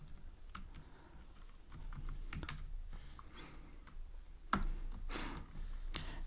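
Someone types code on a computer keyboard, a quiet, irregular patter of close key clicks with one sharper tap partway through.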